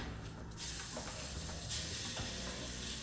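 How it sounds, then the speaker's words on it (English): Pork and chicken fry in a hot pan while etouffee is cooked over a roux, giving a loud, continuous sizzle with crackling fat and stirring scrapes close up, and no voices over it. "it's going to start frying and putting off fat, and it's going to drop the temperature of my pan"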